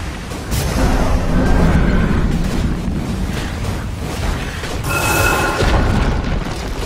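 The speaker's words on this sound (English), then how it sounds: "Dire's middle tower has fallen." A Dota 2 tower is destroyed with a loud, deep rumbling boom that swells twice over a sustained roar of noisy debris, with no voices over it.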